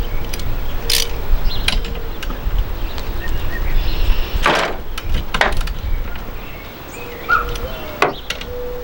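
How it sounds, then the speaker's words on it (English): A ratchet loosens the 14mm wiper arm nuts on a Subaru STi, giving scattered clicks and metallic turns over steady broadband background noise, with a few sharper knocks spaced through the clip. "I will remove these with my ratchet here"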